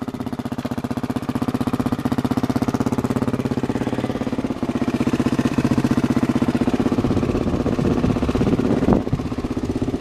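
Dirt bike engine running close by during a steep hill climb, a steady loud pulsing drone throughout with a brief rev near the end.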